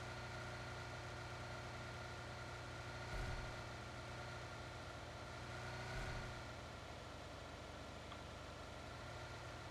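A car engine in PUBG Mobile idles with a steady, even drone, swelling slightly twice as if revving, constant throughout with no other sounds standing out.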